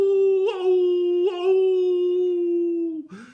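A human voice imitates a wolf howl: one long, steady, close and loud howl that wavers twice and ends in a short dropping whimper.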